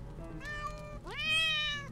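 A cat in the heist video game Monaco meows twice, clear and tonal, the second call rising and longer, close and fairly loud over a low background hum.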